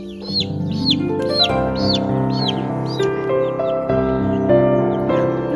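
A mother hen clucking repeatedly at close range, short rising calls over a background of sustained musical tones.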